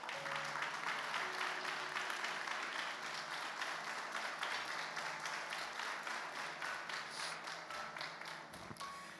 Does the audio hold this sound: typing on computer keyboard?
no